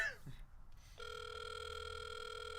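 A phone line rings out during a call: after a brief muffled noise, a steady electronic ringing tone holds evenly for about two seconds, clear and moderately quiet, with no talking over it.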